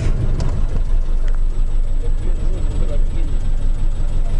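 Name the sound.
Subaru Baja boxer engine running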